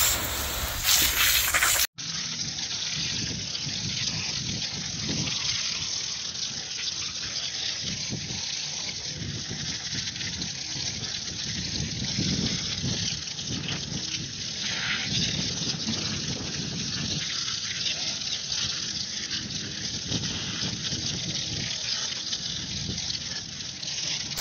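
Steady hiss of water sprayed from a hose onto soil around a tree stump, washing dirt off the roots; continuous and fairly close, with no talk.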